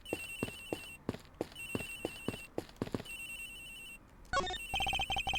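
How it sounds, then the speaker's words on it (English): An electronic phone ringtone in the game Ace Attorney Investigations, with a flight attendant's room setting: repeated sharp beeping rings in a steady rhythm, then a louder, denser burst of ringing near the end, with no talking. "It sounds like the phone is up in the flight attendant's room"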